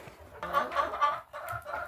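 Rhode Island Red hens give soft, short clucks at close range on a small farm, several quiet calls in a brief burst.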